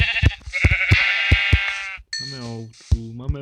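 Sheep bleating in the video game Minecraft Pocket Edition, several distinct wavering bleats in a row with short clicky taps between them, clear and close with a brief gap before the last calls.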